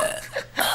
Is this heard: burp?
yes